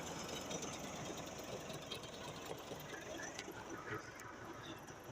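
A tractor engine rumbles steadily and faintly at a distance on farmland being prepared for laser land leveling before wheat planting, with no clear start-up surge.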